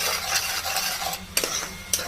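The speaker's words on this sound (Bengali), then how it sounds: "এখন সবগুলো একসাথে ভালো করে কষিয়ে নিব।" Turmeric, chili powder and salt being stir-fried in a pan for a spinach dish, a soft sizzle under scraping stirs, with two sharp utensil clinks against the metal near the end.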